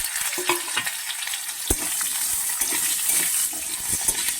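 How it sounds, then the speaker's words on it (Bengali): Pumpkin and eggplant frying in a pan with spices, a steady hiss of sizzling oil broken by occasional clinks and stirring scrapes, close and continuous with no speech. "কুমড়ো বেগুনটাকে আমি এক মিনিট মতন ভেজে নেবো"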